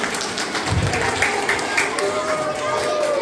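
A group of children applaud themselves at a Polish patriotic gathering, a dense, continuous roll of close clapping mixed with crowd chatter throughout.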